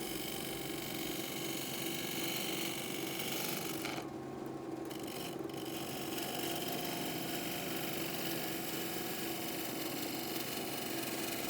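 Gouge cutting a small wood bowl on a lathe: a continuous rough, steady cutting hiss with a faint mechanical whir underneath, fairly quiet and unbroken apart from a couple of brief dropouts, with no voices.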